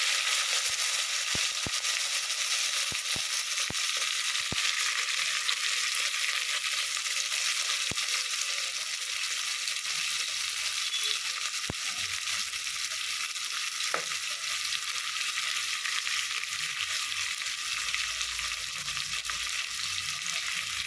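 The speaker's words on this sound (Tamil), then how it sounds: "இப்போ நல்லா வதங்கணும் பாரு நல்லா வதங்கி வந்துட்டோம்" Sliced onions, mint leaves and green chilies fry in oil in a pan for a rice and soya chunk biryani, giving a steady, close sizzle and crackle throughout with a few faint clinks, no voice.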